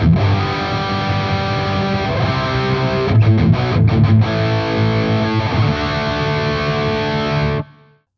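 Distorted electric guitar playing a chorus as written in the tab book, with thick sustained heavy chords and a brief choppy break in the middle, loud and unaccompanied.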